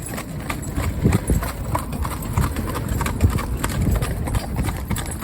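Horse hooves clip-clop in a steady, brisk rhythm on a hard surface, close by and continuous, with faint background noise.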